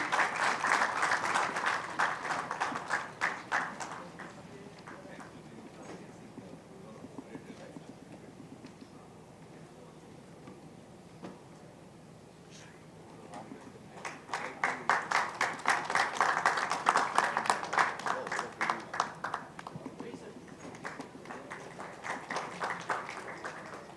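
At a ceremony felicitating dignitaries, an audience breaks into applause in two waves. A loud burst of rapid clapping fades to a quiet lull, then a second strong round rises and tapers off.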